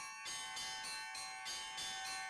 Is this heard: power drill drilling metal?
no